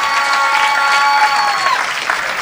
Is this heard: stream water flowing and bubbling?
no